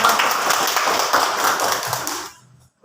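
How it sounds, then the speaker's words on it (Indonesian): A room of schoolchildren claps their hands in a dense, lively burst of applause lasting about two seconds, then stops abruptly into near silence. "Bagus, tepuk tangan anak-anak ya"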